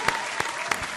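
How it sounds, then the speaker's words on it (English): An audience at a church-style gathering applauds during a welcome-home greeting for a deacon, with steady dense clapping and a few sharper bursts, a voice partly audible over it. "Round of applause."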